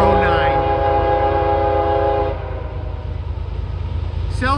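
Freight train M409, running Selkirk to Waycross, passes a Sperry railcar at Hannacroix. A loud, sustained horn blast opens, then fades into a steady rumble of rolling rail cars, with a brief horn note returning at the end.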